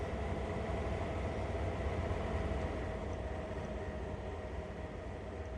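A CSX locomotive in Train Sim World 3 gives a steady, low rumbling drone with an even mechanical hum that holds throughout at a moderate distance.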